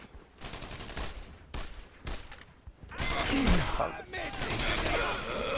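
Bursts of gunfire from the World War II shooter Brothers in Arms: Road to Hill 30, with several close, loud volleys broken by short gaps, then a denser stretch of overlapping shots and battle noise.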